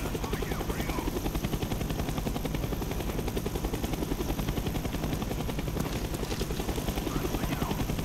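A helicopter in the Black Ops 1 campaign thumps steadily and loudly throughout, its rapid rotor pulsing constant and close, with hints of gunfire mixed in.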